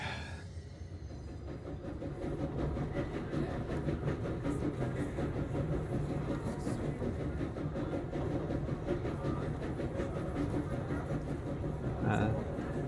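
Steady rumble of a moving train in the video game Control, with faint rhythmic rail clatter throughout and a brief brighter burst near the end; no clear talking.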